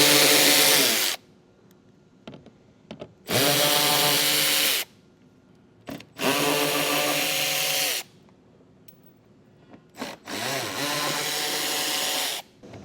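A handheld power tool spins out 8mm bolts from a 2023 Jeep wheel well liner in four separate loud whirring bursts, each a second or two long, with quiet pauses between.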